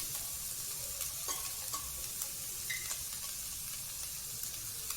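Chicken frying in a pan with salt and black pepper, stirred with scraping and clinking over a soft continuous sizzle; no talking.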